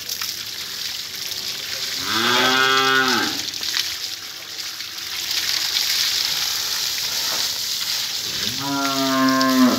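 A heifer on a farm moos twice, loud and close: one long call early on and another near the end, over steady outdoor background noise.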